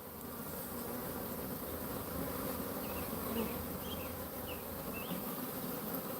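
Honeybees hum around their hives, a dense, steady buzzing swarm close by with a few individual bees whining past, no voices.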